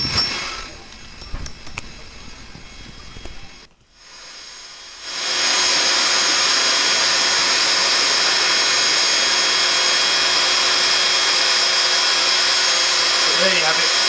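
An airbed pump blows air into a homemade coal forge built from scraps, a loud, steady broadband whoosh that starts after a brief quiet gap and holds close and constant to the end, with scattered clanks before it.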